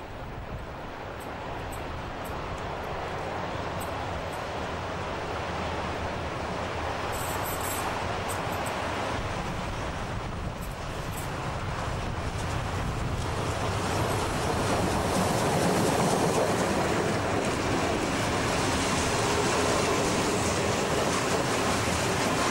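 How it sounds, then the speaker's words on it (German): A heavy coal freight train hauled by a Reko class 52 steam locomotive with a class 112 diesel pushing at the rear works through the town of Zeitz, a steady, broad rumbling roar that slowly swells louder. "Der schwere Zug müht sich durch das Stadtgebiet von Zeitz."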